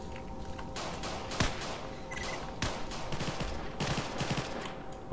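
Gunfire from the video game Stalker with the Faction Wars mod, with dense, continuous bursts of shots and sharp cracks throughout, loud and close, with no talk over it.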